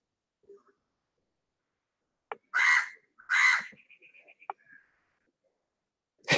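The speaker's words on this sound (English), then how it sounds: "Yeah, sorry for the crows." Crows give a few loud, harsh caws close by. Short bursts are separated by silence, followed by a brief chattering call.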